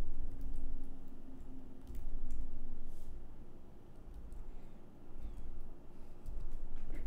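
Computer keyboard typing while entering OAuth code, with soft, irregular key ticks scattered under a steady low room hum, fairly faint and close.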